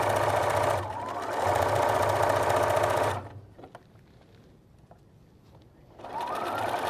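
A sewing machine stitches a quarter-inch quilt seam with a standard foot and thread, running loud and steady for about three seconds, pausing, then starting up again near the end.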